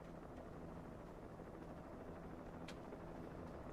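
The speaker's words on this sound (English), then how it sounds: "Sounds like a helicopter." A helicopter in Alan Wake Remastered gives a low, steady rotor thrum with a faint chopping rhythm throughout, distant and fairly quiet, with no talking.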